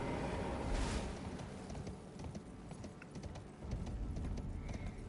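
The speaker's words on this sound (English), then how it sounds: "Actually get on the horse." Horse hooves clip-clop steadily at a gallop in Elden Ring, a continuous rapid rhythm of close, moderately loud hoofbeats over ambient wind, with no talk.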